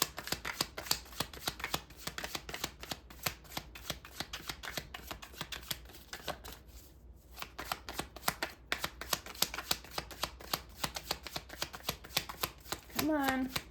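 A tarot deck is shuffled over and over in a quick run of crisp riffling card flicks with a short pause midway, close and fairly quiet, with a brief voice at the very end.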